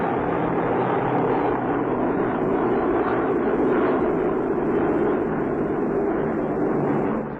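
Squadrons of wartime bomber aircraft roar across the North Sea in broad daylight, a loud, steady engine drone that holds throughout without break.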